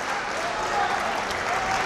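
Fans at a wrestling match applaud the victory, a dense, loud, continuous wash of clapping from a crowd with commentary voices faintly mixed in.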